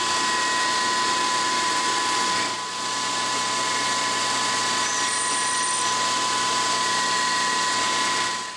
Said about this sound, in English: I drilled it 1 inch deep